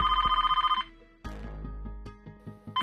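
A landline telephone rings in a home during a Marathi TV serial scene, with a sharp electronic ring burst, a pause, then rumbling movement and a second ring starting at the end, with no talk.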